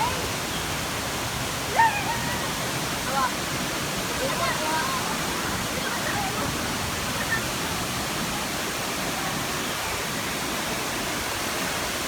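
Constant broadband rush of Mantayupan Falls, Cebu's highest waterfall, steady and enveloping throughout with no breaks, with faint voices barely showing beneath the roar.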